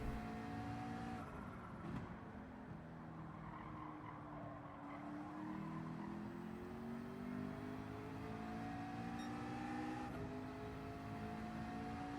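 An LMP2 prototype race car in a Daytona 24-hour racing game comes out of turn 2, its engine note rising and falling at moderate distance with faint tire noise, steady and continuous throughout.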